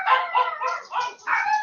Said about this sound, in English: I made the dogs bark